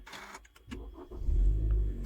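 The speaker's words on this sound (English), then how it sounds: "turn the car back on" A car engine being turned back on during a safety system aiming procedure: a short, quiet starter whir followed by a low engine rumble that catches and settles in, with nobody speaking.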